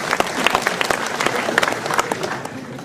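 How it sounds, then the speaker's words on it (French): An audience applauds during a mayor's New Year address in Ouistreham, steady clapping from a full hall that continues evenly for a few seconds. "Oui, on peut s'applaudir, ça fait du bien à tous aussi."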